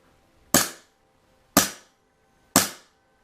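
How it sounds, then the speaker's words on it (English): An empty KWA HK USP Compact airsoft pistol dry fired three times, each a sharp, close snap with a quick decay, evenly spaced about a second apart with silence between. "Chamber visually checked, nothing in it, so we can dry fire it."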